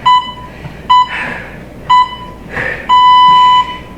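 A workout interval timer in a full-body HIIT session sounds a series of sharp electronic beeps: short evenly spaced pips followed by one longer tone marking the rest period, loud and close, with breathy movement noise between them.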